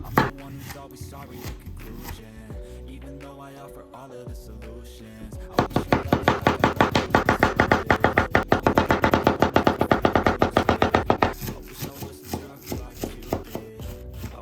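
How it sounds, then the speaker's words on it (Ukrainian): A knife chops cucumbers for a squid salad on a board, with a long run of quick, steady close-up cuts and sparser chops before and after, over soft background music. "Як ми будемо нарізати наші огірки?"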